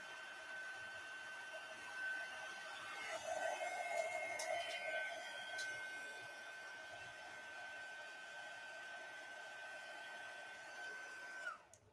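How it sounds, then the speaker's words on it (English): A heat gun melts embossing powder, giving a steady, moderately quiet whirring blow with a high whine that cuts off abruptly at the end. "There's just something magical about embossing with a heat gun."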